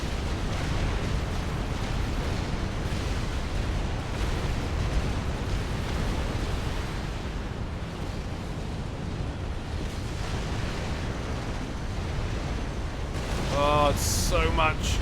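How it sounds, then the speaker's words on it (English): Supreme Commander battle audio: a dense, continuous rumble of artillery fire and explosions pounding a front line, swelling slightly near the end, with a voice briefly audible over it. "Projectile spray raining down on Turinturambar's front line"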